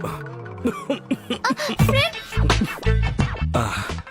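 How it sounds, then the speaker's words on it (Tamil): A few short coughs and throat-clearing sounds come close to the mic, mixed in with quick bits of talking. "அது ஆக்சுவலி ஏப்பம் கிடையாது, இருமல்."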